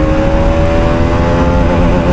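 A car's engine drones steadily and loudly in third gear, holding a constant tone for the whole span with no voices over it.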